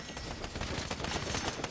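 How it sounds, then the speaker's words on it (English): Rapid gunfire from several weapons fills a firefight in a trios battle-royale-style video game, dense overlapping bursts and single shots crackling continuously and loudly. "are they already opening fire?"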